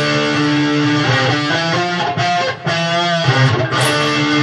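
A distorted electric guitar plays a repeating riff of sustained, harmonically rich notes, loud and continuous with brief changes between chords.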